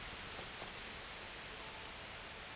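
Steady rain in Kingdom Come: Deliverance, a soft continuous hiss of falling water with faint scattered drops, even and unbroken throughout.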